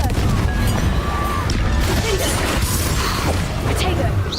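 Confringo blasting spell cast in the video game Hogwarts Legacy: loud, continuous crashing and booming blasts packed with mechanical clatter, filling the whole stretch without a break, with game sound layered in.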